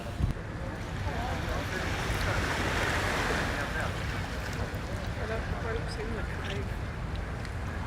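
Sea waves at Roda Beach wash steadily onto the shore, a continuous surf roar mixed with gusty wind buffeting the microphone, while a person talks over the sound.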